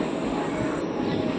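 A train at Andheri railway station, platform 8, gives a steady, loud rumbling roar throughout, close and continuous, with no talk over it.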